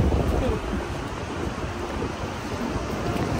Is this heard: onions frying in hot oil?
no